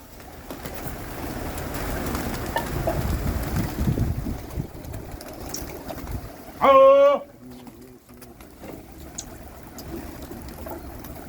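A flock of pigeons flies over Ballimaran in Old Delhi, its wings making a soft rushing, fluttering wash under open-air wind noise, with a brief loud whistle-like burst partway through.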